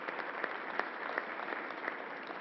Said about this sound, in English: Let's give another round of applause to the National Guard and to Alan Steele and all the people,